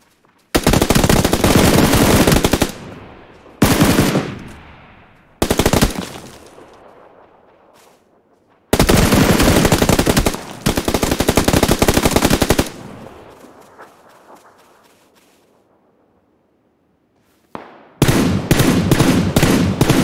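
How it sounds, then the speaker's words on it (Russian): Bursts of automatic gunfire in the PUBG Lite video game: four loud, sustained volleys separated by short silences with fading echoes, then a final burst at the end, with no talk. "Что это за стрельба такая"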